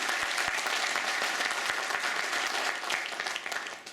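Sustained applause from a large audience at a Nigerian Army conference, dense clapping throughout, loud and steady, thinning slightly toward the end.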